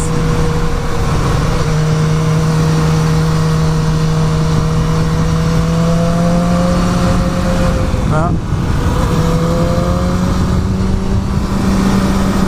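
A BMW S1000R motorcycle engine drones loud and close while being ridden in third gear on Angeles Crest Highway, holding a steady pitch that rises slowly, with one brief dip near the end.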